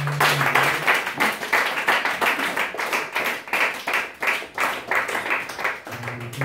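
Congregation in a French-language church worship service breaking into applause, many hands clapping in a fast, steady, close rhythm for several seconds, with a brief voice at the start and end.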